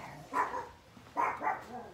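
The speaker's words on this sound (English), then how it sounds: "stop barking." A dog barks three times through a fence at nearby dogs: one bark, a pause, then two quick barks close together. Each bark is short and sharp at moderate loudness, with quiet background between them.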